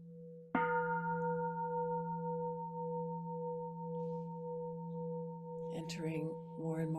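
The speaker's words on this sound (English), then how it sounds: "With each sound of the bell." A meditation bell is struck once and rings out with a long, steady, sustained tone that fades only slowly, and a soft voice begins speaking near the end.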